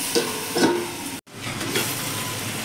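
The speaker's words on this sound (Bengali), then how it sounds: "ঢাকনাটা উঠিয়ে নেড়ে দিচ্ছি" A fish curry with ridge gourd sizzles loudly in a pan as it is stirred, with steady close frying hiss, scraping strokes and a brief cutoff midway.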